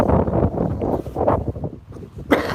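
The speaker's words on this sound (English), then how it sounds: "A bit windy here, guys, because we're very high up," Steady wind buffeting the microphone high up on a hill, a loud continuous low rumble with gusts rising and falling, heard alone outdoors.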